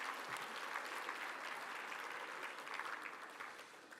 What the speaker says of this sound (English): Let's give them a round of applause, even though they're not here.